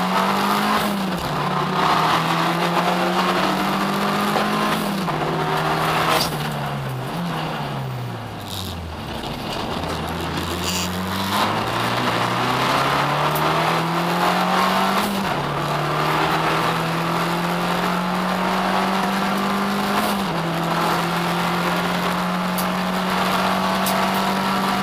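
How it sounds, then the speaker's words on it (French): Onboard a Trofeo Abarth race car at the start at Spa-Francorchamps: the loud engine drones steadily, its pitch rising through the gears, dipping around eight seconds and then climbing again, with tire noise alongside. "On revit le départ à bord de la voiture de Fabio Marchiafava"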